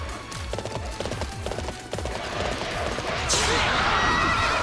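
A horse in the video game Warriors Orochi 3 gallops with quick, repeated clip-clop hoofbeats and a whinny over game battle noise, ending in a burst of crashing impact sounds.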